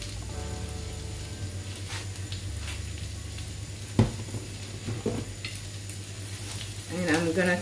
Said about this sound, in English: I'm gonna keep on stirring a little bit before I add my onions